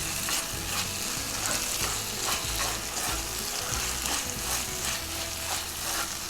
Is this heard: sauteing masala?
yes